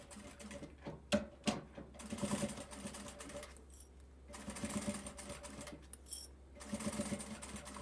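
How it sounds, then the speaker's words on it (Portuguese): Quiet, close sewing machine topstitching a finishing seam on a fabric necessaire at 3.5 stitch length, whirring in several short runs separated by brief pauses. "Essa é uma costura de acabamento."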